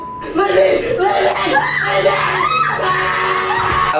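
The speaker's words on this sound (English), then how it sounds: "I like how his girlfriend starts screaming right away." A woman screams in a late-night paranormal vlog, loud shrill cries over several seconds mixed with other excited voices shouting.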